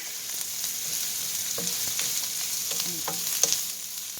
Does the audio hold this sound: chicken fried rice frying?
yes